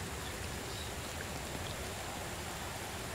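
Steady, dense rain hiss fills the scene in a multiplayer survival video game, an even wash of falling drops with no other sounds or voices.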